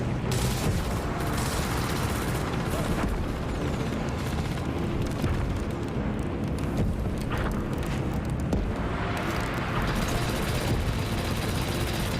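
Dense, continuous gunfire from the video game Gears of War: rapid rifle bursts and heavy booms pile up into a loud, unbroken battle roar for the whole stretch, with no clear speech.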